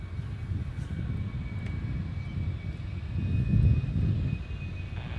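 A fixed-wing aircraft rumbles at Honolulu airport, a low, steady, distant engine roar that swells slightly toward the middle and continues without talk.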